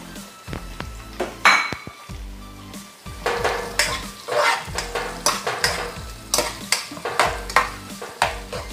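Garlic and onion sauté in a pan for a corn soup with tinapa. A utensil scrapes and clinks against the pan in a lively, uneven rhythm over a soft, steady sizzle, close up and with no voices.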